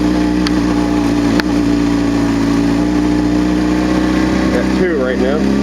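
A motorcycle engine runs steadily with a constant low drone, then swells as the rider climbs the revs; a voice talks over the engine for most of the time.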